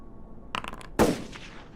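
Gunshot sound effects in a tabletop game: a short burst of rapid clicks, then one sharp loud crack with a brief ringing tail, heard close and alone.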